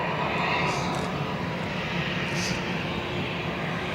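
An airliner taxis slowly back to the gate at Barcelona airport, a steady, fairly distant engine roar and broadband rumble holding at an even level throughout with no rise in power.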